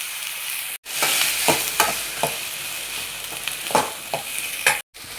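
Okra and tomato sautéing in a pan for a pachadi, a steady frying hiss broken by repeated scraping stirs of a spoon, close and clear, with brief gaps of silence at the start and end.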